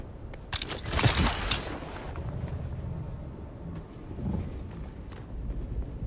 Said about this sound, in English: That storm coming this way?